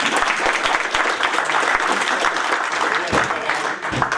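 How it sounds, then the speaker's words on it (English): An audience at a tech conference talk claps steadily throughout, a dense, fairly loud round of applause with some voices mixed in. "give Felix a round of applause"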